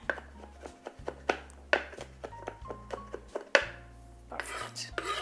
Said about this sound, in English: We will go over it and chop it real fine.